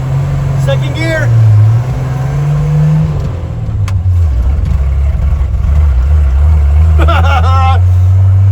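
A classic C60 farm truck engine labors loudly up close, its low drone dipping and dropping in pitch as the driver shifts into second gear, with brief bursts of talk over the running engine.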